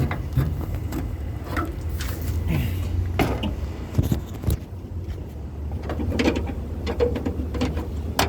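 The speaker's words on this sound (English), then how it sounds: "This is how to open the engine hood." The engine hood of an Inokom Permas van is unlatched and lifted, giving a string of faint clicks, metallic clunks and a creaking hinge, with a few sharper knocks near the end.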